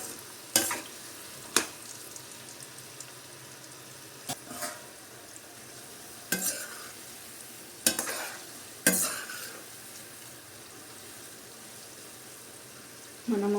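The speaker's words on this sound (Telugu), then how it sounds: "కొంచెం వేగిన తర్వాత మనం గరిటెతో కలుపుకోవాలి" Kabuli chana fries in oil with a soft, constant sizzle. A ladle stirs it at irregular intervals, its scrapes and clacks against the pan sharp and close.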